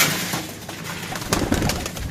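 Soft, low pigeon coos murmur close by amid rustling and scattered flutters as the pigeons are fed wheat.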